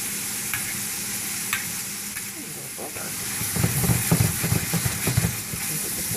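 Shrimp frying in a pan for shrimp scampi, a continuous crackling sizzle with clinks and scrapes as the pieces are turned, growing busier toward the end, close up.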